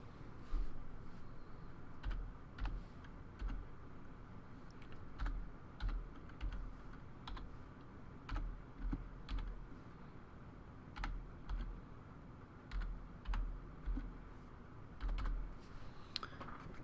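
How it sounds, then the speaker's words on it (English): Rapid keystrokes on a computer keyboard as a Wii MAC address is entered, crisp clicks in uneven bursts with short pauses, close and fairly quiet, with no voices. "then you just type in your Wii's MAC address"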